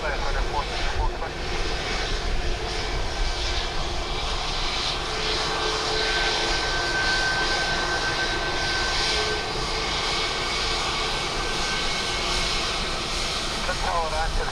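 Aircraft engine roar at Dublin Airport as a plane approaches runway 28 left on a windy day, a steady loud drone filling the whole clip, with radio talk faintly over it.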